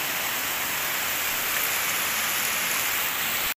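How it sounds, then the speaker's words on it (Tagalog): Heavy rain pours by the sea, a dense, steady hiss of drops that stays loud and unbroken for several seconds before cutting off abruptly. "super lakas talaga ng ulan mga kamahal yun oh"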